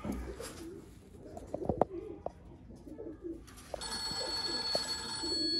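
Breeder pigeons cooing in a loft, with soft low coos scattered through the clip and a steady brighter hum or ringing joining in partway, at moderate distance with no talking.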